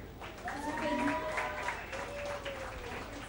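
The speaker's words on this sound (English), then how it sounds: "can we have one round of applause," Audience applause at a film song launch event, a soft, steady patter of clapping for a few seconds with voices mixed in.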